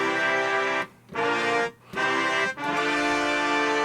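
A big, full synthesized brass patch from MainStage 3 plays three sustained chord swells separated by short gaps, rich and bright, with no talking over it.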